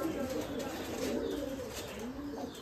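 Giribaj pigeons cooing in a steady low murmur, several birds overlapping close by with a faint background hiss and no talk.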